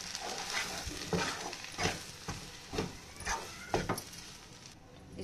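Pea kachori filling stirred with salt in a pan, a spoon scraping and knocking in a slow rhythm of about eight strokes, fairly close and moderately loud with no talk.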